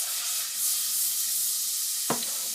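Butter melting in a pan for a macaroni and cheese casserole, giving a steady soft sizzle with a faint low hum beneath and one short clink near the end.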